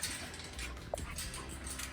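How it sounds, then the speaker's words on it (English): Dogs on a farm during morning chores whimper and yip faintly at a distance, a few soft short cries against outdoor background noise. "we've got our other dogs"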